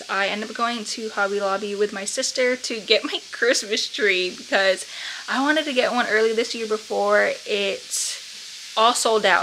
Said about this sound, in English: My mom is frying up some chicken.